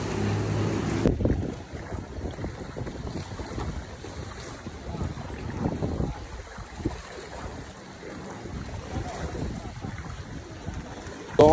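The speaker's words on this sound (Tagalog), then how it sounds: "Lakas ng hangin! Ang lakas ng hangin!" Strong typhoon wind roars steadily into the microphone, buffeting loudly over a low rushing background, with faint voices mixed in.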